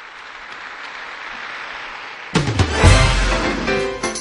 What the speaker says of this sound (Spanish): Un aplauso a los nuevos beatos.